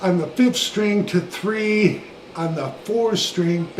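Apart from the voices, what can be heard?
No distinct noise like a dog, phone or traffic.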